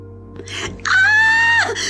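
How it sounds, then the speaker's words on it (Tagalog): A hair-raising scream rings out from inside a house, a loud, sustained, high wailing cry that rises sharply and holds for under a second before breaking off, over a low background hum. "Biglang pumailang lang sa ere ang isang makapanindig balahibong hiyaw mula sa loob ng bahay."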